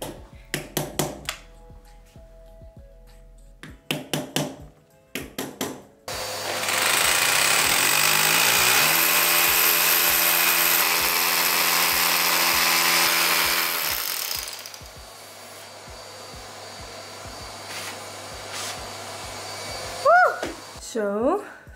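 A power drill bores holes into a wall for plugs, running in a long loud sustained whine near the mic after a few short knocks and bursts, then stopping as quieter handling sounds follow.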